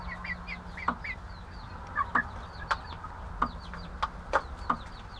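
Young hens in a backyard chick coop cluck in short, scattered bursts with soft higher chirps, fairly close and steady over a low background hum, with no talking.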